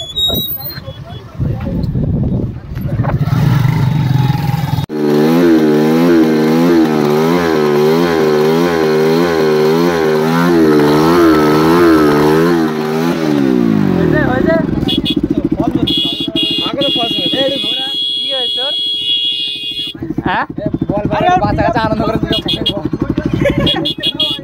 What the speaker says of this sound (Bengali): বাইক আছে এখানে।